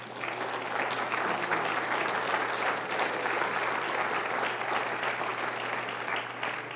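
Sustained applause from a church congregation fills the space, a dense, steady patter of many hands clapping at close range for several seconds, with a faint hum beneath.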